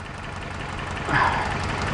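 A Toyota 4Runner engine idles with a misfire, a steady close rumble with a slight uneven stumble and a brief louder surge midway.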